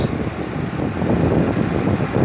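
A 3.6-liter V6 in a 2018 Dodge Caravan wheelchair mobility van with about 35,000 miles, idling with the hood open, gives a steady, even low rumble heard close up and alone.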